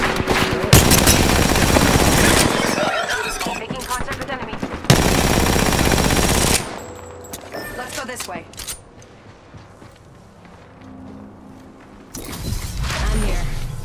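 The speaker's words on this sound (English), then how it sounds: "Being shot at." Automatic weapon fire in the Apex Legends video game, long dense bursts at close range in two loud stretches, then quieter scattered shots and game effects, with a final loud burst at the end.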